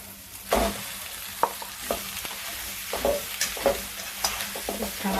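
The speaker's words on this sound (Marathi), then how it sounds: "त्यामध्ये आपण हे उकडून मॅश केलेलं बटाटा टाकू" Boiled, mashed potato drops into hot oil with spices and sizzles, broken by several stirring knocks and scrapes against the pan.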